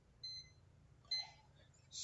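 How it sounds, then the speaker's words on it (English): A multimeter's continuity buzzer gives short high-pitched beeps, one brief tone followed by a second burst and the start of a third, quiet and close with near silence between. "can you see the buzzer sound?"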